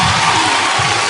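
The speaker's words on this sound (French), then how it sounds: "Vous pouvez l'applaudir." A studio audience on a televised singing competition cheers and applauds loudly after a song, a roaring wall of shouts and whoops mixed with clapping, sustained and close.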